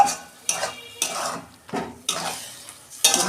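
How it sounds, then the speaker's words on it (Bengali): A bowl that held mustard-poppy paste is rinsed and the water poured into a pan of okra curry, giving five loud bursts of splashing and clattering with short pauses between them, close by. "বাটি ধুয়ে একটু জল দিয়ে দিচ্ছি।"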